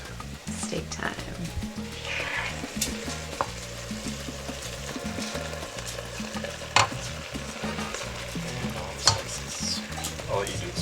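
Steak frying in a pan for fajitas in a home kitchen, a constant soft sizzle with scattered clicks and scrapes from a utensil, and voices talking over it at times.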